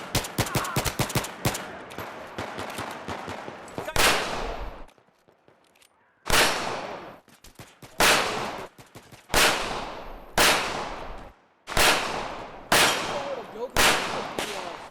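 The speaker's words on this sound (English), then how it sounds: "I'm shooting a Rock On Armory 1911, which is very much an entry-level 1911 purchase" A Rock Island Armory M1911 semi-automatic pistol fires outdoors, opening with a rapid flurry of sharp cracks. A pause follows, then single loud, evenly spaced shots about every one and a half seconds, each ending in a short echoing tail.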